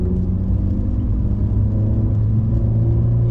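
A car rolls steadily at about 70 km/h before hard braking on a straight line during a braking training session, heard as a loud, continuous low engine and road rumble with no pauses.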